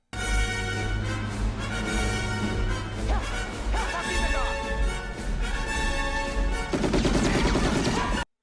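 Gunfire from a scene in the film Raiders of the Lost Ark, a loud, dense stretch of crashing shots and blasts mixed with a film score and effects, growing busier near the end.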